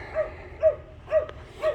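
A dog barks four times at an even pace, each bark moderately loud but set back at some distance, heard in a motorcycle workshop during a swingarm swap on a Suzuki GSX-R 750.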